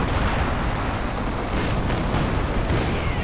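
Smoke barrage artillery fire in Company of Heroes 2, a continuous rumbling roar of booming shell impacts and blasts, dense and loud throughout with no talk.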